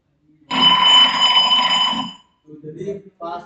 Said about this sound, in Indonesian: Alarmnya seperti itu kurang lebih.